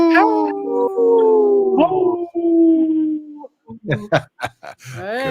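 A human voice imitates a wolf howl, holding long wavering tones that rise and fall for about three seconds before giving way to brief speech.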